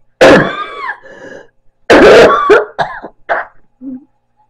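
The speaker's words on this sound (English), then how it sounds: "Just been coughing so much" Two loud, harsh coughing fits close to the microphone, the second trailing into smaller coughs and a throat clear.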